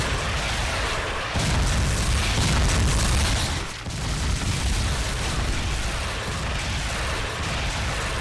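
Repeated heavy booms of missiles exploding in the video game 007 From Russia with Love, a dense rumbling barrage that runs nearly continuously, loud and close, with a brief dip partway through.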